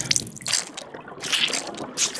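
Water is splashed onto a plate of raw chicken seasoned with Coca-Cola, giving a few brief wet drips and squishy splatters close up, with no talking.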